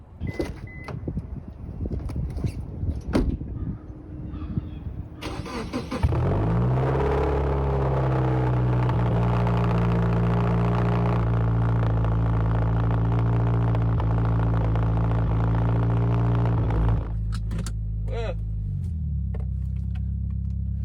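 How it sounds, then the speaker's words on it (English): A 2018 Subaru WRX engine cold-starts after a few clicks and a cranking burst, settling into a loud steady high idle that holds, then drops to a lower idle near the end. "That is one thing that I'm really gonna miss about this Subaru is that cold start and the smell."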